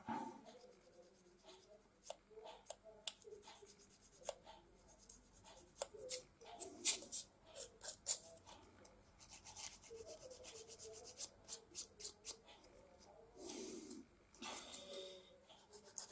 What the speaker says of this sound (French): Je mets un petit coup ici aussi, un peu de ponçage.